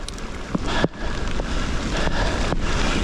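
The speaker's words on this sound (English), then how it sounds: "the real rain has started" Steady rain hisses across a broad wash of noise during a mountain bike race, with gusty wind buffeting the microphone and a few sharp knocks close by.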